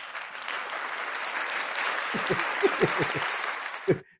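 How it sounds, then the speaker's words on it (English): Applause sounds in celebration of a birthday, a continuous wash of clapping that holds evenly for a few seconds before a few distinct louder claps and thumps close it out. "I'm going to put a round of applause for Nosa."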